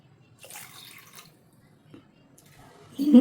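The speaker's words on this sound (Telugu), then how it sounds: "రెండు కప్పుల పంచదారకి కప్పున్నర వాటర్ పోసుకోవాలి" Water is poured into a kadai holding sugar for Karachi halwa, with short soft trickles and then a louder gush of pouring at the end of the brief moment.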